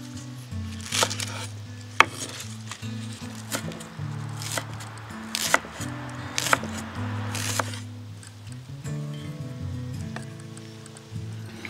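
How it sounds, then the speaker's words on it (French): A knife chops chives and coriander on a board, a run of sharp separate taps at an irregular pace, near and fairly clear, with no talk. "Je cisèle la ciboulette et la coriandre."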